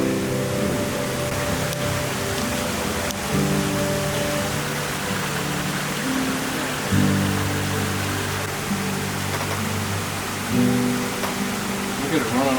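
Sudden heavy rain pours off a roof and out of downspouts in a loud, steady broadband rush, with a person talking over it throughout.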